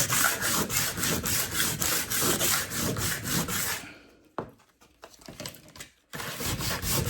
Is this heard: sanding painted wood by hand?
yes